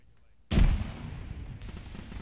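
Frag grenade exploding in a tactical shooter video game, one sudden heavy blast that rolls off into a long rumbling decay, with muffled voices in the mix.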